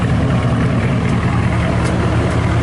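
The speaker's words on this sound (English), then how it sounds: "Sounds great with its exhaust setup." A Chevrolet Camaro with a header swap and aftermarket exhaust rumbles at a steady idle, a deep, even low-end drone held close and unchanging.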